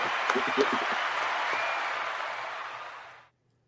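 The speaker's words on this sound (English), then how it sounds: "So clap it up for that" Applause on a podcast livestream, a steady wash of clapping with a few voices at the start, fading out and stopping abruptly.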